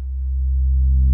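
A low, pure sine-wave synthesizer oscillator tone hums steadily as faint upper harmonics creep in while feedback is swept up, slowly roughening it toward a sawtooth over about a second.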